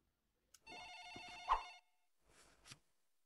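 Ringback tone of an outgoing phone call, one electronic ring burst lasting about a second followed by a fainter partial second ring, quiet and isolated with no voices.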